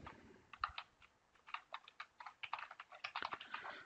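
Typing an email ID on a computer keyboard: a close, quiet stream of irregular key clicks in short bursts, growing busier toward the end, with no talking.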